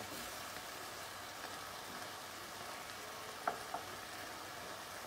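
Garlic and onion sizzle steadily in a pan for a turkey chili, a soft, even hiss throughout with a couple of brief clicks near the end and no talk.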